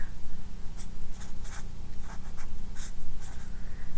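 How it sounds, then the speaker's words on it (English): Pen or marker writing out notes during a maths lesson on constants of proportionality, giving close, rhythmic scratchy strokes in quick bursts with no talking. "I'm gonna write some stuff out here"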